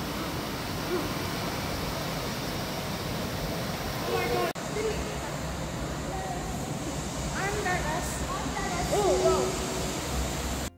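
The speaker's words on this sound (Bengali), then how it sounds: "বেশ অনেকক্ষণ এখানে কাটিয়ে নেক্সট ওয়াটারফলে ঢুকছি।" Waterfall installation inside a digital art museum in Dubai, a continuous broad rush of falling water filling the space while people talk over it.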